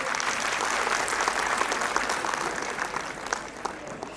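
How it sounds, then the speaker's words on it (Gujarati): Steady, dense applause from an audience at a school annual function, clapping for the children continuously at an even level throughout. "તો અમારા બાળ ભૂલકાઓ માટે એકવાર જોરદાર તાળીઓ થઈ જાય."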